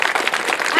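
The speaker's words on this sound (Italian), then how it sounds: "un caloroso applauso per chiamare la nostra miss" An outdoor Miss Venice Beach pageant crowd in Caorle breaks into a short, loud burst of dense applause with some voices mixed in.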